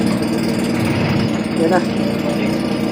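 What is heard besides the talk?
engine started with new gas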